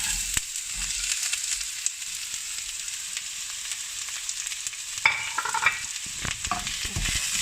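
Onions and curry leaves fry in a pan with a steady bright sizzle, punctuated by stirring scrapes and a few louder clatters near the end.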